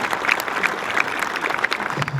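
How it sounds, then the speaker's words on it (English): Graduation audience clapping for student speeches, a sustained, fairly even round of applause with scattered brighter claps heard from amid the crowd. "a round of applause for particularly the student speeches again"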